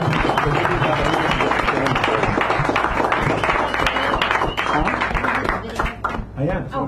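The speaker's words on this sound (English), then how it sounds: "Give her a nice big round of applause." An audience at a poetry reading in a San Francisco cafe breaks into sustained, dense clapping, loud and close throughout, with a voice speaking over the applause.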